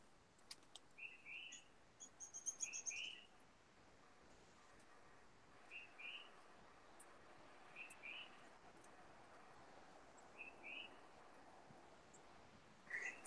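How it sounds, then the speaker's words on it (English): Faint outdoor birdsong of small birds, with short chirps and twittering phrases repeating every couple of seconds over quiet background hiss. "Oh, I can hear the birds."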